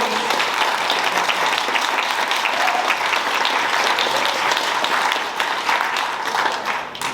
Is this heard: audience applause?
yes